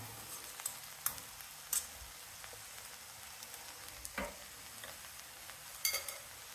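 Sautéed vegetables and poha being stirred in a hot pan, a faint continuous sizzle with soft scraping stirs and a few sharper spoon knocks against the pan.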